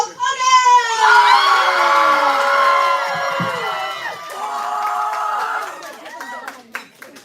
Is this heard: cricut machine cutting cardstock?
no